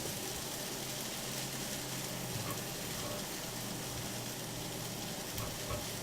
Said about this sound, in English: Just frying a little too quick. Like the onion's browning before it's cooked.